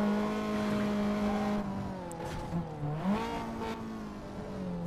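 A car engine hums in Need for Speed Most Wanted, a steady, close drone whose pitch sags and then climbs again as the car slows and speeds up, with no one talking.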